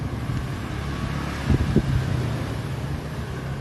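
Low, blustery wind buffets the microphone in a constant rumble, with a couple of brief gusts thumping harder.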